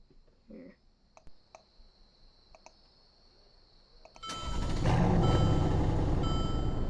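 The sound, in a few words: startup of a 2015 Stuttgart Van 63 sport van in a video game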